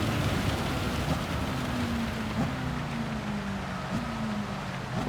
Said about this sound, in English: that rain's on for a while and it's going to be pretty heavy by the looks of it